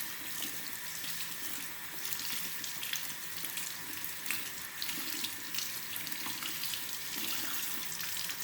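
Tap water runs steadily over a two-tone Rolex watch, a soft continuous splashing hiss with small shifts in the stream and no voices.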